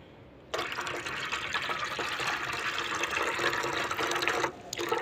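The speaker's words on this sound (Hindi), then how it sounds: "तो अब ये जो है कावा हम पानी में ऐड कर लेंगे" Herbal decoction, prepared as medicine for chickens, is poured into water as a steady, splashing liquid stream that starts abruptly, runs for about four seconds and briefly breaks off near the end.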